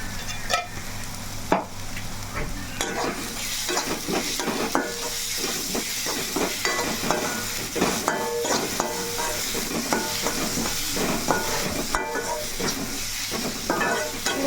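Spice masala with rock salt and chilli powder frying for a wild mushroom curry, a continuous close sizzle broken by constant scraping and stirring strokes against the pan.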